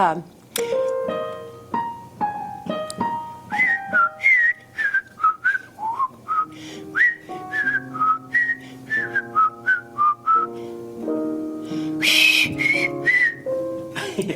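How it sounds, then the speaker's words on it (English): A woman whistles a short improvised tune, clear close notes in quick phrases that rise and fall, with brief pauses between runs and a few spoken words mixed in near the start. "go ahead and burst out a whistle"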